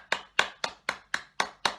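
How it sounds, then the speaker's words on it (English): Seven crisp hand claps in an even, steady rhythm follow the blowing out of a birthday candle, close and fairly quiet, with no talking. "let's give everyone a great big clap"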